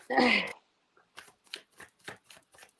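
A thick 78-card tarot deck being shuffled: a loud riffle burst at the start, then a run of quick soft card slaps in a steady rhythm, close by.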